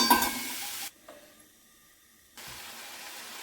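Onions fry in a pan with salt, a soft, close sizzle that cuts out for a moment of near silence and then comes back as a steady faint hiss.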